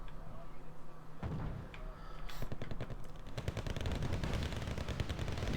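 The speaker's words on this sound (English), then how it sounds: "Tornado IDS doing a bombing run." Bombing run by a Tornado IDS aircraft in a war video game, heard as a dense burst of repeated explosive impacts and gunfire-like cracks that starts about a second in and continues to the end, loud and close.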